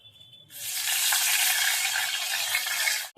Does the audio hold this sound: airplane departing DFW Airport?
no